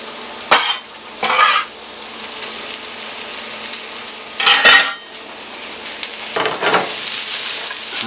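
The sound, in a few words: onions and peppers frying with browned hot dogs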